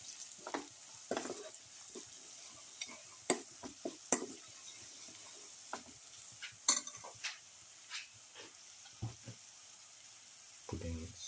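A spoon stirs a bottle gourd, potato and rice casserole seasoned with salt, with soft irregular scraping strokes over a steady low sizzle, fairly faint and close, with no talking.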